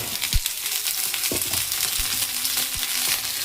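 Potatoes and eggplant frying with lightly browned onions in a pan give a steady, close hiss and sizzle, with a few soft thumps of stirring throughout.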